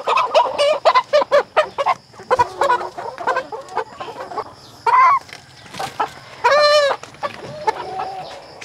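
Dominant CZ pullet chickens cluck repeatedly in short bursts, close by, with a couple of longer drawn-out squawks; no talking.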